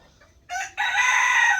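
Local free-range farm chickens: a couple of soft clucks, then a close rooster bursts into a loud, sustained crow that carries to the end.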